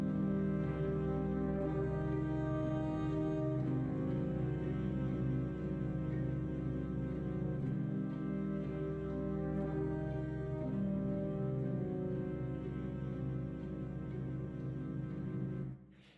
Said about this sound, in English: All of these voices together with the saxophones and the clarinets that I added sounds like this.